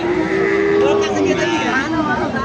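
A young Sahiwal bull calf moos loudly and close by at a cattle market, one long drawn-out call with a wavering tone.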